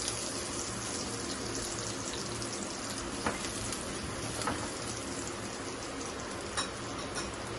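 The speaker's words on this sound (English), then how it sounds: "This is the tempering procedure for the green peas that we are doing now." Spices tempering in hot oil for green peas, with garlic frying until light brown, giving a steady, dense sizzle throughout with a few faint pops and clicks.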